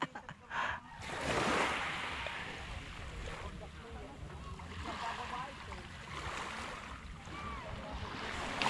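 The boat Helen 5 rides on sea waves while water surges and wind rumbles across the microphone, with people's voices faintly mixed into the steady wash.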